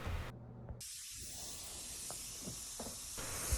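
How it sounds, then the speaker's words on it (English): Compressed air hisses steadily out of a nozzle while cleaning the tube seal inlets on a Honda CR-V engine, a close, continuous spray with a few short breaks and faint clicks. "taking some compressed air, and we're going to clean out those tube seal inlets"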